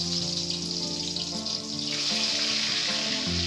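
Eggplant slices frying in oil in a karahi give a steady, close sizzle and hiss that runs throughout, layered under sustained tonal background sounds.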